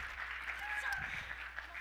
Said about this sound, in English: Can we give our artists one more round of applause?